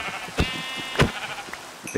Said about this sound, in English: Kill some sheepies that are all going to run away from me now because they're terrified of me.